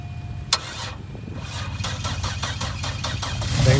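A truck engine running on yogurt drink in place of engine oil cranks over and starts, then settles into a rough, knocking idle with irregular thumps, close and steadily louder.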